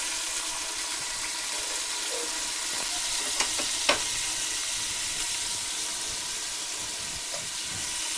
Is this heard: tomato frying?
yes